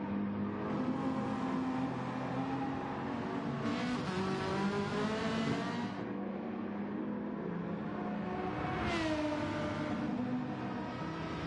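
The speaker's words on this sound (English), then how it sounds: "Big Kev coming through the hairpin now." A race car drives through a hairpin and then a kink, its engine droning loud and continuous with rising and falling pitch sweeps as it brakes, downshifts and accelerates back out.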